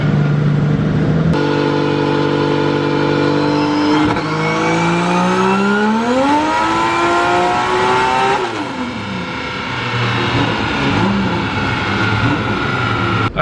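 Modified 3.4-litre JZ engine in a car revving hard on a dyno, rising to a high-pitched scream before backing off, loud and continuous with no talk.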